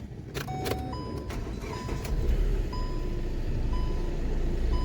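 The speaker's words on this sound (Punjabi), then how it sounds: "ਹੁਣ ਮਾਰਾਂਗੇ ਸੈਲਫ ਤੇ ਕਰਾਂਗੇ ਸਟਾਰਟ ਜੀ।" A Hyundai car with a just-cleared injector circuit fault is started on the self-starter: repeated electronic chime beeps sound over a steady, close engine rumble that swells slightly as it catches and settles into idle.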